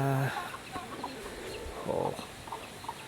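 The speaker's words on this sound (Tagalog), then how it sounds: "Pabo." A turkey and chickens call and cluck close by, with a rough, gobbling-like burst amid scattered bird noises.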